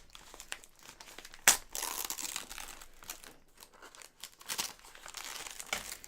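Careful snips through low-tack tape, then crinkling and tearing paper as a wrapped parcel is opened, with a sharp cut near the start followed by irregular rustling bursts.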